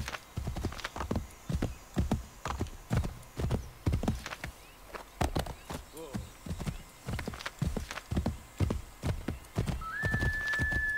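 Rhythmic hoofbeats of a horse galloping in Assassin's Creed 3, steady clip-clop thuds repeating throughout, with a faint whinny midway and someone talking quietly over it.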